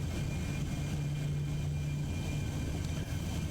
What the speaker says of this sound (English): so now we have 2 successful engine starts